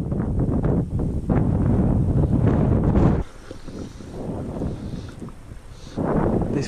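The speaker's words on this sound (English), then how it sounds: "the wind was really starting to get on my nerves." Strong gusting wind buffets the microphone at a high mountain lake in Wales while fly fishing, loud and blustery for three seconds, easing to a lower roar, then swelling again near the end, with no talking.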